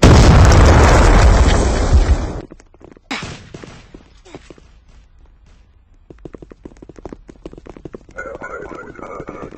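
A single loud, booming gunshot rings out at a crowded queue, followed by a short muffled burst, then quieter scattered noise and voices.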